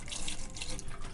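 Water from a tap runs steadily over a tattoo machine grip as it is rinsed with distilled water, a continuous close splashing and trickling stream with no voices.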